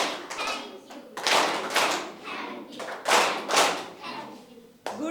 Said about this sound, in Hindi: थैंक्स ताली